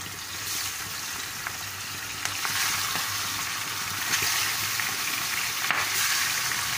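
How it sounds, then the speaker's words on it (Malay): Shrimp fry in hot oil in a pan, a steady close sizzle with occasional sharp pops and crackles spitting over it. "Okey, kita goreng udang."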